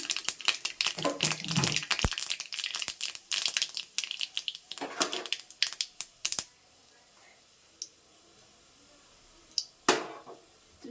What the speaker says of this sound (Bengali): আমি সর্ষেটা ফোড়ন দিয়ে দিলাম আর এতে দিয়ে দিচ্ছি দুটো শুকনো লঙ্কা